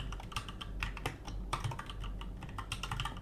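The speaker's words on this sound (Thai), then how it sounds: "สามารถพิมพ์ได้ตามปกตินะครับผมใช้คีย์บอร์ดทั่วๆไปนะครับ" Steady, close typing on an ordinary computer keyboard connected to a Mac Mini M4, with a brisk, uneven patter of key clacks and no voices.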